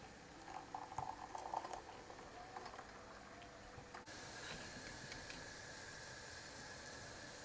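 Tea simmering in a pot on the stove for masala chai, a faint steady hiss of boiling with soft bubbling and a few small clinks early on, growing into a fuller steam rush partway through.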